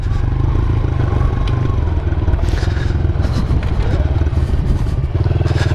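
A 2015 Honda CRF 110 dirt bike accelerates hard on soft sand, its small single-cylinder engine revving steadily and loudly up close throughout, with rattling clatter from the machine.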